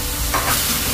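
Plain tuna dropped into a hot frying pan with carrot already cooking, giving a loud, close, continuous sizzle that flares briefly as it lands, with no voices.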